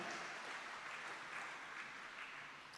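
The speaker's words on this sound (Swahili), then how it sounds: "Wale washindi wangepiga tena makofi mengi ya shangwe." A church congregation claps together in steady, sustained applause, heard fairly faint and even throughout with no talking.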